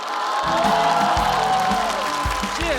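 Audience applause and cheering fill a stand-up comedy competition stage, a dense steady roar of clapping that holds for a few seconds with musical tones playing underneath.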